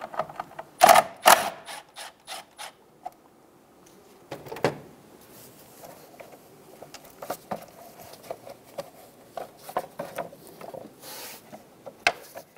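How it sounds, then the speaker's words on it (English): A 10 mm socket works loose the top nut on a Ford Focus fuel pump, making sparse, close metallic clicks and taps spread unevenly across a quiet background. "Using a 10 millimeter socket, loosen the top nut."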